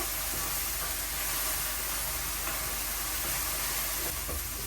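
Okra (bhindi) fries in a pan, giving a steady, loud broadband hiss and sizzle that continues unbroken throughout, with faint scattered crackles and no speech.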